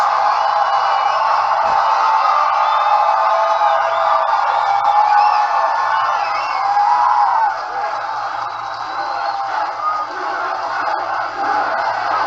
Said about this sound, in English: They fucking cheer for it